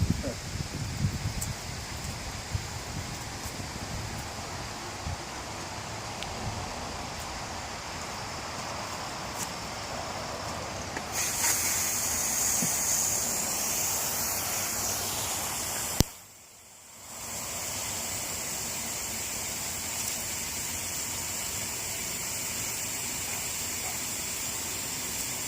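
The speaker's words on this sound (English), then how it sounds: "get pretty windy" Wind blows steadily through an outdoor scene on a June morning in Richmond, Virginia, a broad rushing hiss like rustling leaves that holds for the whole stretch, briefly dipping quiet before returning.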